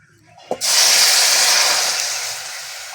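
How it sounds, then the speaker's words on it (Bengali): Fish broth poured into a hot pan of oil fried with panch phoron, for a cauliflower and bata fish curry, bursting into a loud sudden sizzle that holds as a steady, close hiss and slowly fades. "এবার ঝোলটা ঢেলে দিচ্ছি"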